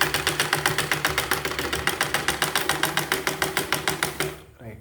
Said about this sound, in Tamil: இப்போ அந்த கோட்லேயே தைச்சிக்க வேண்டியதுதான்